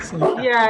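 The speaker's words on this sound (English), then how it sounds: "Sorry about the dog." A pet dog barks and yips indoors in short, loud bursts, mixed with a person talking close by.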